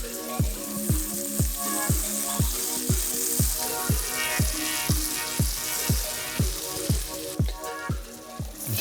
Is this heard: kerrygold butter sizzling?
yes